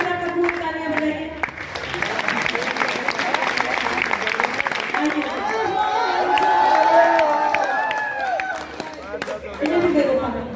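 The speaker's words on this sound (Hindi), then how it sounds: "खूब तालियां बजाइए" Applause and cheering from a college audience at a Hindi poetry and music event in Shahjahanpur, crowd clapping mixed with loud voices, chatter and cheers, with singing or speech-like tones rising over the noise midway.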